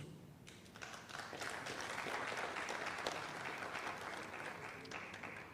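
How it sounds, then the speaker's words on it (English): An audience at a Nigerian political gathering applauding the election contestants, a faint, even wash of many hands clapping together that holds steady for several seconds. "so we will clap for all the contestants"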